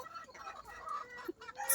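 Chickens clucking on a chicken farm with layer hens, a mix of short fowl calls and busy barnyard noise, fairly close and moderate in level over a brief stretch.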